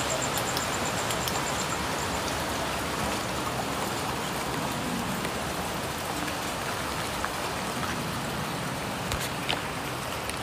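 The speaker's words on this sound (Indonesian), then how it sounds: "sekarang ni hujan. Hujan rintik." Light drizzle falls steadily outdoors at a cremation site, a continuous even patter of raindrops on surfaces with a few faint distant high tones, no talk.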